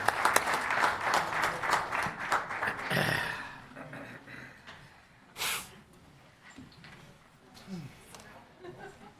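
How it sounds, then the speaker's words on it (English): City council meeting audience in O'Fallon, Missouri applauding the Dare readers: a loud burst of clapping for about three seconds that then thins out, with scattered noises afterward. "one more round of applause for all the great Dare readers tonight"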